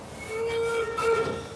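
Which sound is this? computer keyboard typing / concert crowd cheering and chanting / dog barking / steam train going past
steam train going past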